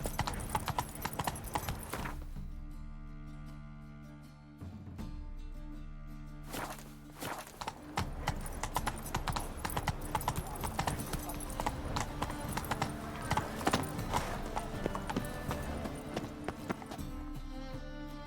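Horse hooves clip-clop steadily at a gallop in The Witcher 3: Wild Hunt, a continuous rhythmic pounding over a layered orchestral game score, with brief lulls and a soft whinny-like tone, no talk.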